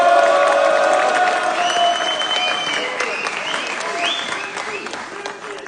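A crowd at a French freestyle rap circle applauds and cheers for a rapper, dense clapping with whoops and shouts rising over it, loud and continuous throughout.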